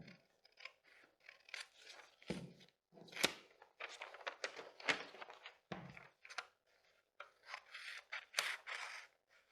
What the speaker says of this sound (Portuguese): E vou cortar aqui o meu decote.